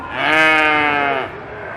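Goats bleating loudly and close at a fair's competition, one long wavering cry that trails off into background noise.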